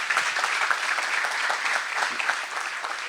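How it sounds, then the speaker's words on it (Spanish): An audience at a veterinary talk on diagnosing and treating respiratory conditions gives steady applause that fills the room for a few seconds without pause. "Un aplauso."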